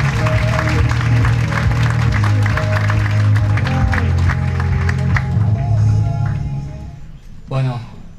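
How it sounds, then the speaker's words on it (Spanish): Audience at an architecture talk on building facades in Córdoba clapping for the speaker, sustained and fairly loud with crowd murmur, then dying out near the end as a voice briefly sounds. "un fuerte aplauso para Joaquín Alarce."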